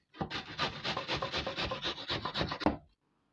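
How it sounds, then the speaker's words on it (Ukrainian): Onions rubbed against a medium grater while making semolina cutlets, a close, steady run of rhythmic rasping strokes for under three seconds, each scrape distinct, with no voices and silence after. "Ми їх будемо терти на середню тертушку"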